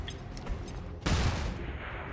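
A flashbang grenade going off in XCOM 2, one sudden sharp blast that rings out into a bright, fading hiss after a quieter buildup.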